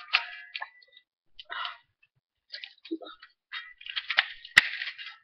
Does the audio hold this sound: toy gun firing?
yes